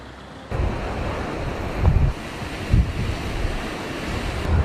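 Typhoon Betty on the coast at Santa Ana, Cagayan: strong wind buffets the microphone over the continuous roar of heavy surf, with several deeper gusts and wave thuds.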